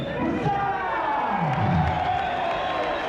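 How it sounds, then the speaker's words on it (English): An appreciative casino audience at a boxing event at the Wild Coast Sun hotel in KwaZulu-Natal, South Africa, applauding and cheering as a steady wash beneath a commentator's voice. "And enthusiastic applause from this appreciative Wild Coast audience."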